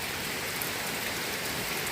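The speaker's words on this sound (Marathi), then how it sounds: "केव्हापासून पाऊस लागतो" Heavy monsoon rain pours onto rice paddies in Kuvegaon, Lanja, a dense, steady hiss of downpour with no voices.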